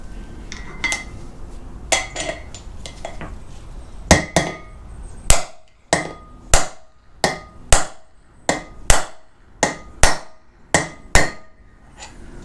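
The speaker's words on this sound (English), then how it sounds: "we're going to pound that race in until you hear a tone change." Loud metal-on-metal hammering as a wheel bearing race on a 2WD Ford Ranger is driven in with a bearing tool, a steady series of about a dozen sharp ringing blows at roughly one per second, preceded by quicker, busier tapping.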